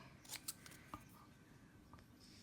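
Scissors snipping paper for a Stampin' Up! card-making project, a few quick close snips, then a couple of softer cuts, all faint against a quiet room.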